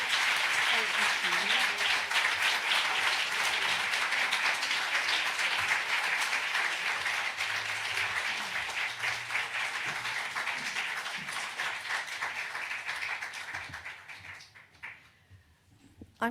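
Sustained applause from a conference audience at a symposium, loud and continuous, fading toward the end as the room quiets, with a voice speaking beneath it.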